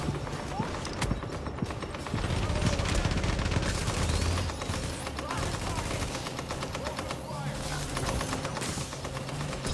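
An enemy turret in a shooter video game fires in rapid, dense bursts of gunfire that rattle on almost without pause, loud and close.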